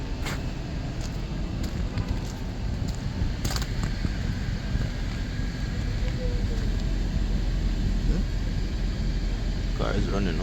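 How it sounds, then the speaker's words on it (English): A 2024 BMW X6 engine idles after a remote start, giving a steady low rumble and hum that holds evenly throughout, with a voice talking over it. "Car is running now."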